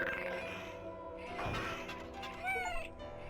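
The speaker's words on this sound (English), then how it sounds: "Is that a cat?" A cat gives a short meow near the end, fairly close and clear, over a low background hum and faint sounds.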